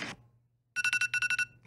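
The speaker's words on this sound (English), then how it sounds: "That was the phone." Telephone ringing in a green room, two quick bursts of bright electronic trilling pulses, clear and close, with a brief voice just before.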